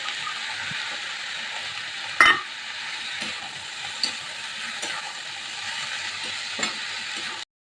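Steady sizzling and frying of cabbage in a pan, with occasional stirring clatters and a brief louder scrape partway through; no talking.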